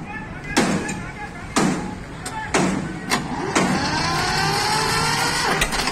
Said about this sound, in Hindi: मार्शल आज सभी ट्रैक्टरों की आवाज सुनेंगे हम